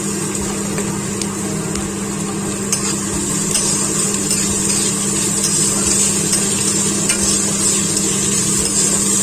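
Vegetables, ginger and chili fry loudly in a hot pan, with a steady, close sizzle and occasional scraping stir strokes and light clicks over a constant low hum.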